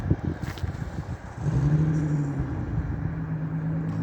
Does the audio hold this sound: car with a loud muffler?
yes